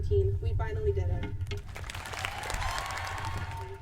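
Family and friends cheer and applaud graduates in a packed high school stadium at a graduation ceremony, with a spread-out roar of clapping and shouting rising beneath a speaking voice and an amplified address.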